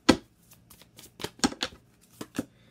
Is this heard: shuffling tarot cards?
yes